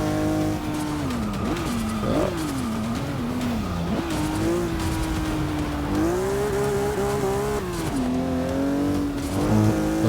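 Race car in a sim racing game, a loud steady engine drone climbing and dipping with throttle and shifts, with brief tire squeal as the car slides.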